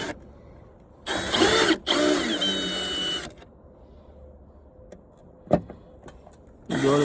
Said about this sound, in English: You gotta break the screws first with the screw gun.